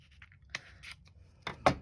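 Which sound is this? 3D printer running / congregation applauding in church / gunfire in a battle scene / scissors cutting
scissors cutting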